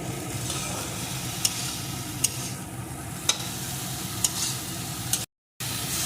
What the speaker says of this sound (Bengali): লবণ হলুদ এখন আবারও কিছুক্ষণ এটাকে এইভাবে ভেজে নেব